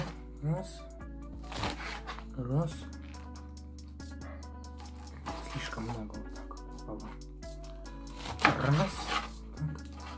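Repeated knife chops through fresh garden lettuce on a board, sharp crisp strokes in short bursts, while a person talks throughout.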